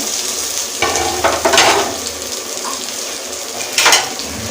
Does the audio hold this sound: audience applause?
no